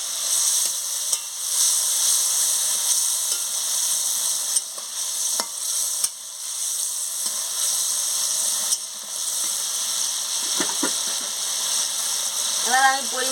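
Pumpkin fries with spices in a pan, a steady bright sizzle running throughout, broken by occasional stirring scrapes and clinks, with a few faint vocal sounds near the end.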